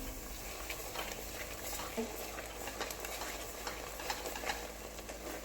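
Masala roasting in oil for a Marathi crab curry, a soft continuous sizzle with light stirring scrapes, faint and even throughout.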